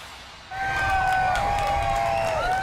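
Street crowd in New Orleans' French Quarter applauding and cheering loudly for French President Emmanuel Macron, with shouts and whistles rising suddenly after a quieter start and holding steady, dense and close.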